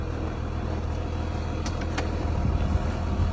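Inside the cockpit of a Snowcat on a trail maintenance ride, a steady low engine drone and rumble fills the cab, continuous and close, with a few faint clicks partway through.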